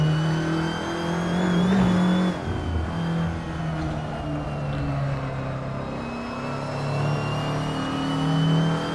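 An Audi TT Cup race car engine in the Assetto Corsa racing game, lapping the Montmeló circuit: a loud, continuous turbocharged drone that rises and falls in pitch through gear changes and acceleration.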